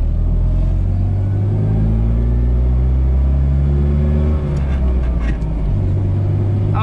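A warmed-up 1988 FSM Fiat 126p with the 650E engine revs steadily and loudly close by, a deep rumbling drone holding for several seconds with a slight dip near the end.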